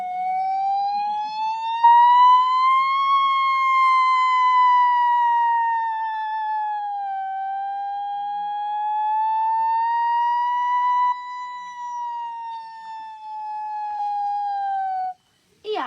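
A voice imitates a fire engine siren in one long, smooth, unbroken wail that slowly rises and falls, loud and close.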